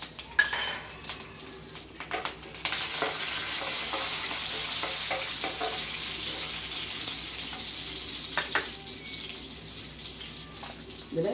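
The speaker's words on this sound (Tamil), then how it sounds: "இந்த கறியாப்பிலை போடுறேன். அதுக்கப்புறம் இந்த 4 காஞ்ச மிளகா" Curry leaves and four dried chillies crackle and sizzle in hot oil in a home kitchen, a bright steady frying hiss with a sharp burst at the start, stirring clatter and a few utensil knocks on the pan, no talking.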